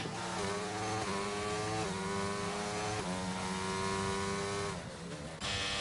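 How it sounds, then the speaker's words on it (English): Race car engine in a racing video game at Bahrain, revving hard and loud while warming its tyres, with a steady whining drone and a few shifting pitch steps throughout. "he warming up the tyres pretty rigorously there"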